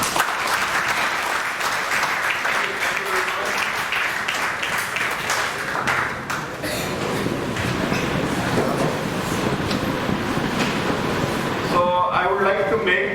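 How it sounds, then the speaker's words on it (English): An audience at a motivational talk on project innovation and incubation claps steadily and densely for most of the stretch. The applause thins toward the end, where a voice begins speaking. "Just give a floor of clap for yourself."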